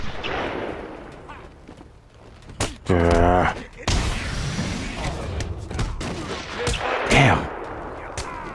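Gunfire bursts in Batman: Arkham Asylum, loud broadband blasts around the three-second mark and again later, mixed with game effects while someone talks over much of it.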